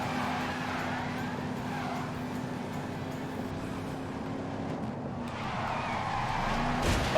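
In The Grand Tour video game, a car drifts with a sustained tire skid and engine whine, a continuous sliding screech that swells toward the end over steady engine noise.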